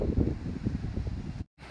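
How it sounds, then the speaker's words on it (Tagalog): Breeze at a beach campsite buffeting the microphone with low, rumbling gusts, steady and close, cutting out briefly near the end. "Ang ganda ng hangin, simoy ng hangin dito."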